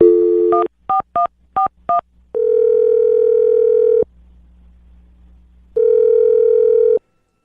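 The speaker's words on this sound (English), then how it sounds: "I'm going to dial her phone number right now and see if we can get her on the phone." Telephone keypad tones beep through several quick dialed digits, followed by two long steady ringback tones separated by a pause, clear and close as on a phone line.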